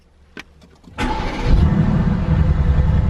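A car engine starting in comfort mode: a few faint clicks, then the starter catches and the engine fires into a loud, rumbling idle that swells slightly and holds steady, close by with no talking.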